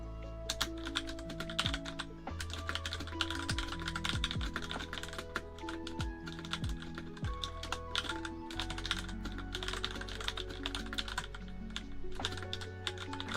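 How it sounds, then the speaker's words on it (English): Continuous close typing on a computer keyboard, a dense stream of crisp key clicks and clacks with occasional heavier thumps, steady and uninterrupted, with no talking. "it's just my typing"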